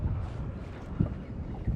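Steady wind blowing across a fishing boat near a rocky island with some swell, a low rumbling buffet on the microphone with a couple of brief thumps and no voices.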